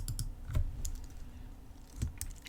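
A handful of computer keyboard key presses during Figma design work, sparse taps and clicks with a couple of louder strokes near the start and again around two seconds, close and clear with no talking.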